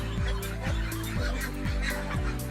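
Muscovy ducks on a small farm plot, about seven meters wide, give repeated low honking and hissing calls in a steady, fairly loud rhythm, close by, with no talking.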